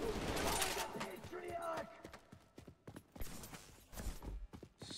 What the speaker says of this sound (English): What you shooting at?